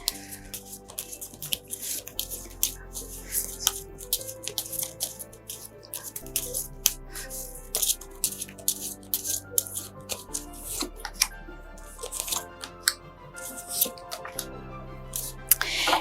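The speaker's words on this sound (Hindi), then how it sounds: "तो जेमिनी के कार्ड्स जो हैं वो शफल होना शुरू हो गए हैं।" Tarot cards being shuffled by hand make quick papery flicks and snaps in an irregular stream, sitting beneath steady background music with no talking.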